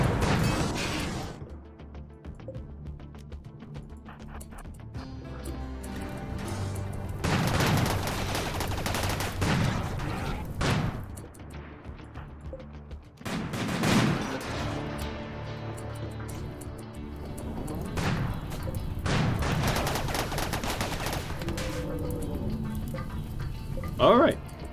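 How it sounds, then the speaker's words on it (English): Gunfire from raiders shooting at a bait turret in RimWorld, heard as repeated bursts of shots under steady game noise and music, spread across the stretch with several loud clusters. "Oh, they're shooting at my bait turret."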